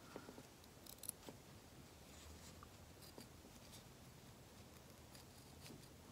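Small scissors snipping around embroidered fabric, trimming close to the stitching without cutting the threads on the back; soft, faint, close-up snips in an irregular rhythm over a quiet background.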